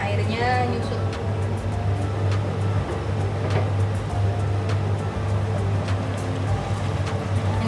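Javanese spiced chicken (ayam ungkep) simmers and sautés in a pan as its liquid cooks down, giving a constant close hiss over a low steady hum, with scattered small pops and clicks.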